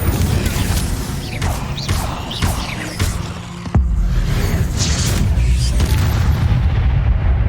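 Fire spell cast in Hogwarts Legacy, with loud booming bursts and crackling impacts over busy game effects, a sharp hit near the middle, no talk.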